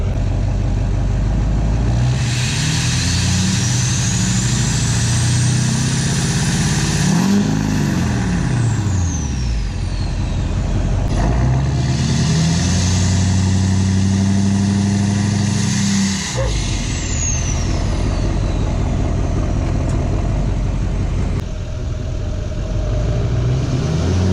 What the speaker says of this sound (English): turbo noises are heavily involved in this next section